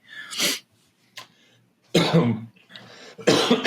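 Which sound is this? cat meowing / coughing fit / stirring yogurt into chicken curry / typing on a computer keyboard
coughing fit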